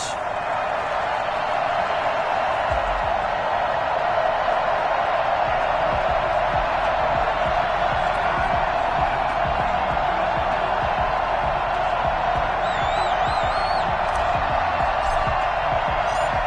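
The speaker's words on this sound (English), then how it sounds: "This crowd is ready as their guys get set to match up between the Cleveland Browns and the Arizona Cardinals." Stadium crowd in an EA Sports Madden NFL game before a Cleveland Browns versus Arizona Cardinals matchup, a steady distant roar of cheering that runs the whole time under a commentator's voice.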